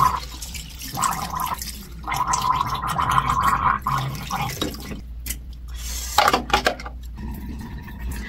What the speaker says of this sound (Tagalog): Para sa ating mouthwash, ito gagamitin natin.